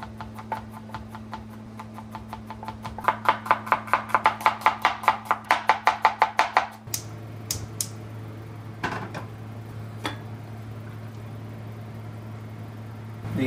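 A knife chops shallots and garlic on a board, a rapid run of crisp, evenly spaced strikes that speed up, then pause before a few scattered cuts, close and clear over a steady low hum.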